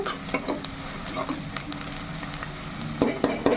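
Onions frying red with cloves and cinnamon give a steady close sizzle, punctuated by sharp scraping and knocking stirs that grow louder near the end.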